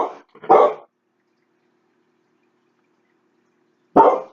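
A pet dog lets out a couple of quick close barks, then falls silent for several seconds before one more loud bark.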